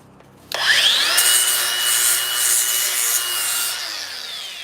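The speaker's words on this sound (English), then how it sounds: "you need to get yourself a flap disc on an angle grinder. This thing will eat." An angle grinder fitted with a flap disc bites into wood, starting abruptly with a rising whine and then holding a loud, rough, continuous abrasive roar for several seconds, close and with no voices.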